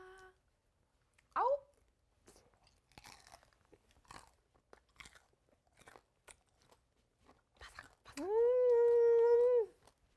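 Crispy guobaorou pork with pineapple is bitten and chewed close up in a few crunchy bites between quiet pauses. A voice makes a long drawn-out sound near the end.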